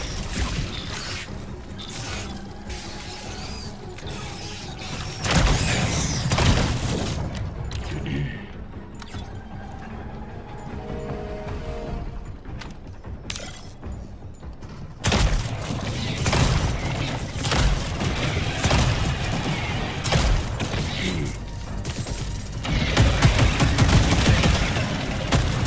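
Sentry turret in the video game Helldivers 2 firing long rapid bursts of gunfire, with heavy rattling volleys that stop and start, loud and dense, plus mechanical clatter between bursts.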